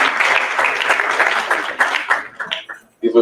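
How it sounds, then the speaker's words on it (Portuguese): An audience applauding at a technical presentation event, with loud, dense clapping that fades out toward the end before a voice begins speaking. "Podemos aplaudir esse momento"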